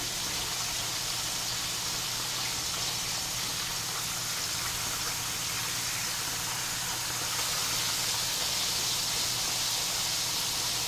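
Large pork chops fry in a pan after being flipped, giving off a steady, even hiss and sizzle of hot oil that runs unbroken for several seconds, with no talking.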